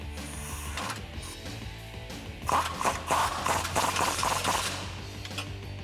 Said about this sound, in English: then we'll tighten it up with a 21mm socket and wrench